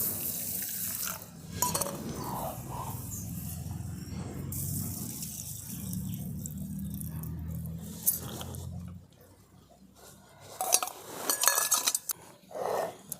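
Tap water runs and splashes as mustard seeds are rinsed in a bowl at a sink, a close steady gush with intermittent sloshing and a pause near the end.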